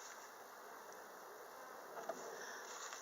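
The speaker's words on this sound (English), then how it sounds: "See, there's still some bees hanging out in the corners." Honey bees buzz during a spring beehive inspection with the hive boxes opened, a faint, steady, even drone that lasts the whole stretch with no voices.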